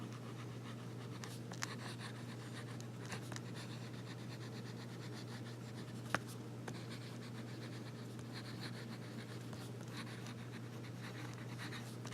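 A Hero 9315 fountain pen's number 5 nib scratches quietly across paper in short strokes and pauses, faint and close over a low steady hum, with no talking.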